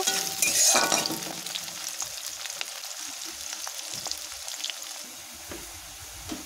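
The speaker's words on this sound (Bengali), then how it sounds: "তারপর দিচ্ছি পেঁয়াজ কুচি। তো এটাকে একটু বেশ সময় ধরেই ভাজবো, ব্রাউন কালার হবে।" Chopped onions hit hot oil with a loud rush of hiss that settles into a steady, close sizzle, with light clinks and scrapes of stirring throughout.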